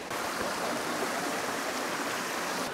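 Steady, dense roar of a waterfall in Croatia heard from nearby through a small tunnel, a continuous broadband rush of falling water with no pauses and no talking.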